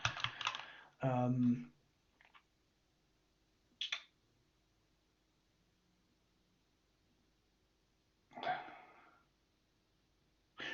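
Crossword answer typed on a computer keyboard in a few short clusters of close key clicks, separated by long quiet gaps.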